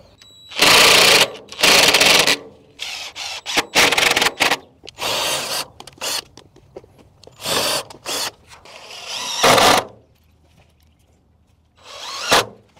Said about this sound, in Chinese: 钉不同的木板要选用不同尺寸的钉子，像这种薄木板用2寸的钉子就可以了